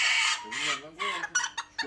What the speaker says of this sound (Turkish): değişik türlerde tavuklar görüyoruz burada